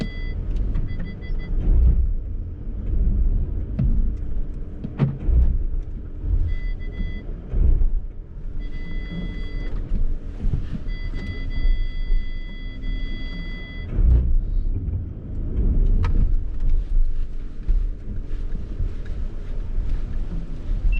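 An Audi SUV crawls over an off-road axle twister course with repeated heavy thuds and creaks from the suspension over a steady engine hum and some wind noise.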